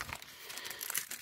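Paper bags and small jute pouches handled in a home craft room, producing continuous dry crinkling and rustling close up, with no talk.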